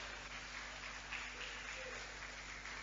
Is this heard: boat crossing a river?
no